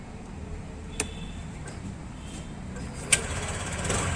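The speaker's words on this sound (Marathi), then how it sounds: "आपण गाडीचा आवाज तुम्ही बघू शकता एकदम सायलेंटली जी जी चालू होऊन जाते गाडी" A 2024 TVS Jupiter scooter with a silent starter comes to life quietly and settles into a soft, steady low idle hum close by, broken by two sharp clicks near the start and middle.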